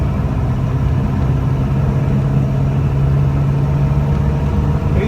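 A 1949 Ford Prefect E493A on the move, its small engine giving a steady, droning hum with a low rumble from inside the car, constant throughout with no talking.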